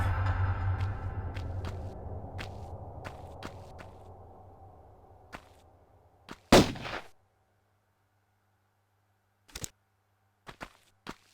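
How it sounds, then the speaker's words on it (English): Gunfire in the 1996 game Tomb Raider, level The Cistern, in the Croft Engine: a fading low rumble, then a loud sharp shot followed by a few fainter isolated cracks and footsteps. "Oh, and you know what that gunfire is."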